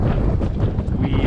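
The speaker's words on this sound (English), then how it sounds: "we're getting hit with a lot of wind coming off the water here" Strong wind buffeting the microphone by the waterfront near 42nd Street in New York City, a loud, rumbling, continuous low roar of gusts with no talking.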